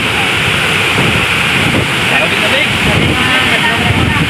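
Big ocean waves crash and roar on the coast of Guimaras Island while strong wind buffets the microphone, a loud, constant rushing wash.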